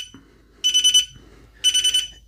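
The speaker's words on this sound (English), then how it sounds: "Once again, we get that nice verbose alarm as well." Alarm from a MUSTOOL MT-29 15-in-1 air quality meter: two loud bursts of rapid high-pitched electronic beeping, each about half a second long and made of several quick pulses, separated by a short pause over a quiet background.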